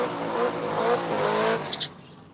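An all-wheel drive Chevrolet Trailblazer SS racing at a circuit event, its engine droning loud and close with rising pitch, a brief tire squeal near the end as it fades away.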